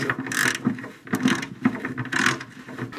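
Ratcheting wrench turning 13 mm bolts beneath the front wing of a Citroën Traction, giving a few close, bursty clicking runs separated by short pauses.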